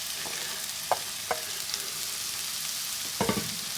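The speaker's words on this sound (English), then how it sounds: "next let's add the onions." Finely sliced onions fry in a pan with a loud, steady hiss, while a few short spoon scrapes and knocks stand out over it.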